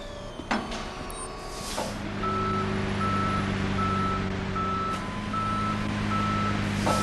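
A tow truck backs up in the game Police Simulator, its reversing alarm giving evenly spaced beeps over a low idling engine hum, after a couple of clunks and a hiss early on.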